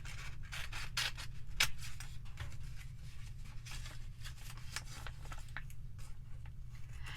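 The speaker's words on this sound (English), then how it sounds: "So you're just gonna cut it." Scissors snipping through paper while making a seed envelope: a handful of quiet, crisp cutting strokes over a low steady hum, close and faint.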